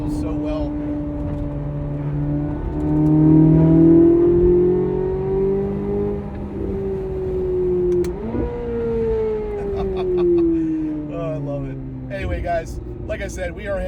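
A C8 Corvette Z06 engine pulls hard while driving, the exhaust note rising in pitch through the gears with a brief dip at a shift, then easing off as cabin noise continues.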